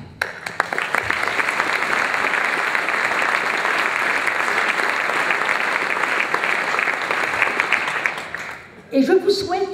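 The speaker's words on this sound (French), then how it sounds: "Et je souhaite que vous les applaudissiez déjà" Loud, sustained applause from a large audience at the opening of a congress of regional natural parks, honouring the organisers and volunteers; steady dense clapping that breaks off near the end as a voice briefly speaks.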